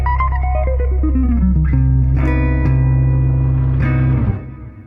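A diminished major 7 arpeggio played on a sustained, effects-laden instrument, single notes stepping through the chord in turn before the last note rings and cuts off, with no voices.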